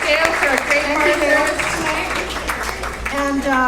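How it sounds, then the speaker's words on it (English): Audience clapping and applause at a ghost story night in the King's Head pub, steady and close, heard under someone talking over it. "A big round of applause to the King's Head"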